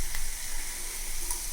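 Tomato paste with chili powder, salt, turmeric, coriander and cumin powders frying in a pan for a potato curry gives a steady, even sizzle throughout, close up with no talk.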